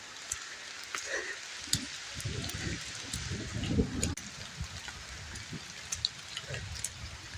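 Steady rain falls outdoors on a rainy day during the month of Shravan, a soft continuous hiss of drops with scattered patters and occasional low rustles, moderately quiet throughout.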